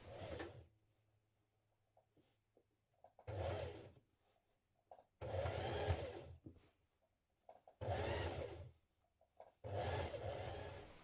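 A sewing machine hems the bottom of a vintage-style coat at a 1.5 cm seam allowance. Its motor whirs in five separate bursts of a second or two, with quiet pauses between them.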